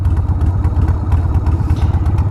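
A 1994 Harley-Davidson Sportster 1200 rumbles steadily and loudly while being ridden, its deep pulsing engine note close and continuous, with no talking.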